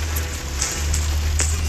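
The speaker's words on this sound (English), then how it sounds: "I have to talk louder because it's raining" Rain falls steadily on a hard surface as a continuous hiss with a low hum underneath, with occasional brief bright splashes standing out near the microphone.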